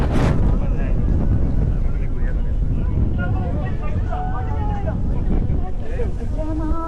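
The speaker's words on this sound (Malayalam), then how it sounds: "കാറ്റ് പോകുന്നത് കാറ്റ്" Wind blows across a hilltop on a trek, a steady loud rumble against the microphone while people talk faintly underneath.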